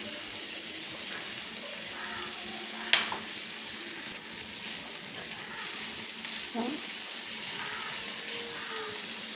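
Potatoes tossed in hot oil with chili and turmeric powder for a Kerala-style stir-fry give a steady, even sizzle, broken by a couple of sharp clicks and scrapes from the stirring utensil.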